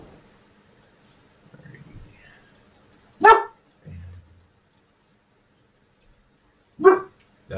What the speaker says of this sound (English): That would be my puppy barking at the